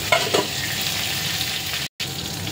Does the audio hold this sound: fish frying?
yes